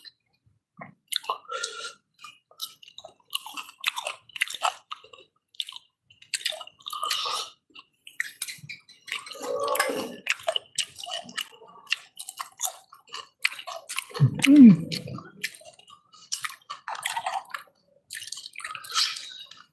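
Close, wet crunching and chewing of raw vegetables in irregular bursts, with quiet gaps between bites and no talking.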